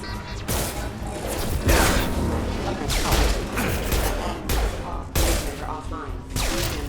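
Gunfire in the Mass Effect 2 video game, rapid bursts of shots and booming impacts crowding together continuously, loud and close, with voices talking over the battle.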